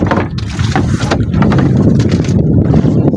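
Strong wind buffets the microphone in loud, uneven gusts, a continuous rushing roar with no talking.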